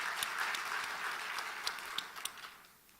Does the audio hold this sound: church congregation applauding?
yes